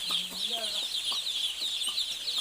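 A batch of 1680 broiler chicks on a poultry farm, first day, cheep in a dense, constant high chorus, with a few lower clucks and calls rising near and clear above it.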